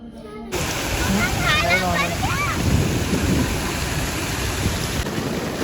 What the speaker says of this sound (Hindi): देखिए पानी अभी भी कितना निकल रहा है